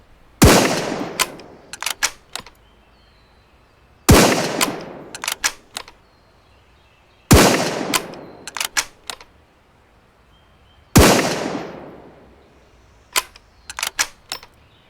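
Bolt-action rifle gunshots in the video game Road To Vostok, four loud, sharp reports spaced a few seconds apart, each followed by quick mechanical bolt clicks while the next round is chambered, with no talk.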